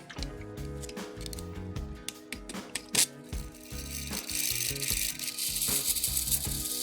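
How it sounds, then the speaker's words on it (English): Close, rapid mechanical clicking and ratcheting rattles on as the spring of a vintage 31-day striking wall clock runs down, with brief sharp clacks and a growing whirring rattle toward the end. "Spring's running down a little bit."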